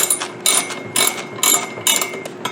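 Ratchet clicking as a 3/8-inch drive ratchet with a 14 mm socket tightens a bolt lightly on a WEN 8-inch five-speed drill press, model 4208; five short bursts of rapid clicks, close and fairly loud, no talk.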